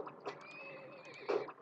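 A horse whinnies in the strategy game Turmoil, a short clear neigh with a rising and falling tone and a louder burst near the end, alone over a soft background.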